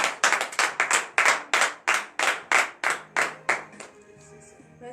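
A church congregation claps hands in a steady, even rhythm during morning prayer, a dozen or so loud claps that fade out near the end, with faint voices underneath.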